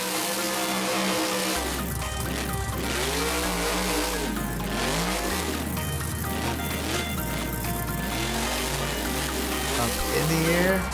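Monster truck spinning a donut in BeamNG while churning mud: engine revs in rising and falling sweeps over a dense, loud roar, with music or commentary layered throughout.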